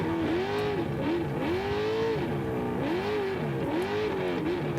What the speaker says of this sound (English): That Gibbs motor ripping through here